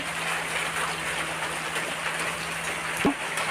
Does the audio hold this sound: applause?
no